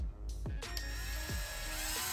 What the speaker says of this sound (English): So I'm gonna drill a hole 3/16